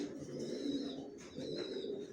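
Racer pigeon chicks coo steadily and close by in a continuous low, soft murmur, with a higher faint tone drifting above it throughout.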